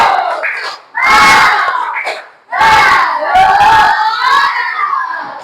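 Primary school pupils in an Indonesian classroom shout a loud group clapping chant, two short bursts followed by a longer sustained rhythmic stretch of voices and claps, close and energetic.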